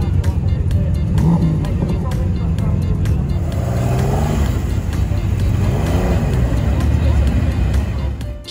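A Group B MG Metro 6R4 rally car runs on the Supercar Fest runway track, its engine droning loud and steady with rising and falling revs throughout, close to the microphone, while voices talk over it.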